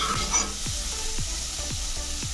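Green peas sizzle steadily in oil in an uncovered pan, with a spoon scraping through them in a regular rhythm of about five strokes, close and fairly loud, no voices.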